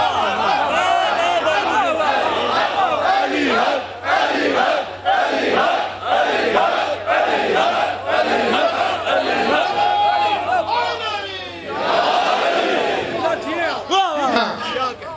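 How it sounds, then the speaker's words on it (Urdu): A large crowd at a religious majlis chants a slogan in unison, loud and close, in strong rhythmic waves of massed voices that repeat throughout with only brief dips. "اس نعرے سے انصاف کیا کرو علی حق"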